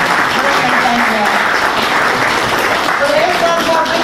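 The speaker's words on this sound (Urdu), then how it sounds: "آپ سب ان کے لیے تالیاں کریں." An audience at a white cane ceremony for the blind claps steadily and loudly throughout, a dense close wash of many hands with no pause, while voices murmur underneath.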